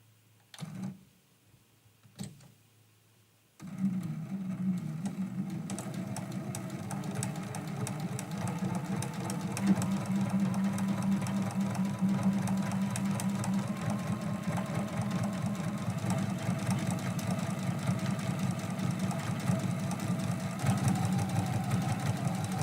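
A sewing machine stitches a Christmas quilt-as-you-go block, starting after a few brief taps and then running steadily for about eighteen seconds in a close, even mechanical whir with a fast rhythmic needle clatter.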